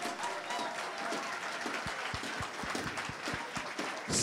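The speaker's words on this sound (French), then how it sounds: "Mettons-nous debout et acclamons cette parole." A church congregation claps and cheers, the applause building into a steady round of scattered hand claps with a murmur of voices beneath.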